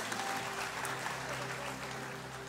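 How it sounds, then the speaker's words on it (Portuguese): A church congregation applauding together, a dense and steady patter of many hands that holds at one level throughout, heard from within the room. "Vamos aplaudir a Deus por isso?"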